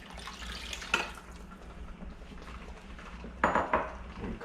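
Water poured into a pot for beef soup, a quiet close splash among light clinks of pots and utensils, with two brief louder bursts.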